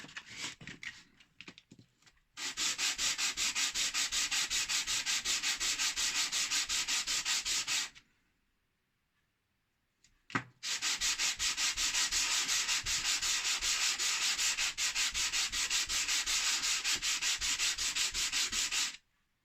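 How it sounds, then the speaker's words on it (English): Broken whetstone rubbed against sandpaper in two long sessions of fast, steady, rhythmic scraping strokes, close and loud, with a brief pause between them and no talk. "all that I have to do now is to use the same sandpaper"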